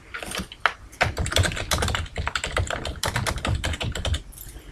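A note being typed on a computer keyboard: a steady, fast run of crisp, close key clicks and clacks that continues without pause and without any voice.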